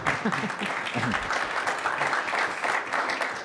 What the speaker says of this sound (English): is that applause? That was a hand clapping.